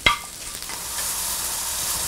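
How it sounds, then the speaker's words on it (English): Mushrooms fry in butter in an omelette pan: a sharp clack, then a steady, close, bright sizzle that holds evenly to the end. "First thing I'm going to do is add my mushrooms to the butter."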